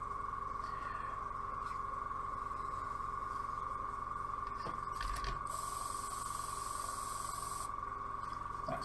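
An airbrush sprays contrast paint with a steady, close hiss and a constant whine, the airflow swelling briefly in a brighter burst near the end.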